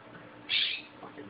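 A bird gives a short, loud harsh call while harassing a cat, a single burst in the middle over faint background.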